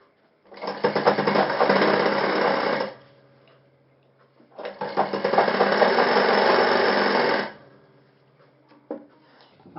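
Sewing machine stitching a shirt collar, running in two steady bursts of about two and a half seconds each with a pause between, its fast even whirr close and loud with no talking.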